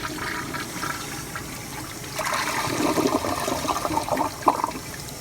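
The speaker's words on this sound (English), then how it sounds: "So let's give it a flush." A 2006 Ferguson ProFlo toilet with a Fluidmaster 400A fill valve and 3-inch flush valve flushes in an employee restroom: a low hiss first, then a louder gurgling rush of water swirling and draining, close and with no talking.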